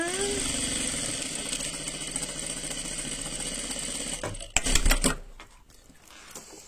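A sewing machine fitted with an AliExpress gathering presser foot runs steadily while ruffling fabric, a continuous mechanical whir that cuts off after about four seconds, followed by a few sharp handling knocks and near quiet.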